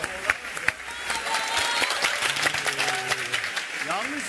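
Studio audience applause on a Turkish comedy game show: a steady wash of clapping runs throughout, moderately loud, with people talking over it.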